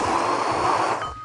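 A kitchen blender whizzes peeled garlic cloves and ginger in a short, loud motor whir that holds steady and then begins to wind down at the end.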